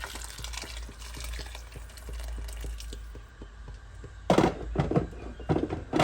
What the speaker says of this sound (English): I've just got my hot boiling water here, and so I'll just add enough to cook my rice.